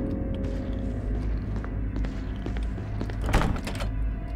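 A locked door being tried in the Resident Evil video game: a few dull thunks and a short metallic rattle of the handle over a low droning ambient background, fairly close and with no voice.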